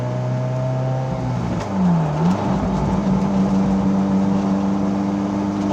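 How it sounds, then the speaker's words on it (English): A 1995 Ferrari F355 Challenge race car engine revs up hard, the exhaust pitch sweeping down and climbing again through gear changes, loud and close with a steady roar. "you guys will get to hear this amazing exhaust as I go through the gears."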